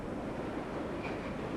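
Subway train pulling into Woodside station in World of Subways 4, a low steady rolling rumble with faint rail noise and a brief squeal, muted and continuous.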